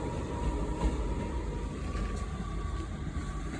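Class 158 diesel multiple unit train at Carlisle on the West Coast Main Line, a steady low diesel rumble with a faint tonal whine, heard at moderate distance throughout with no talk.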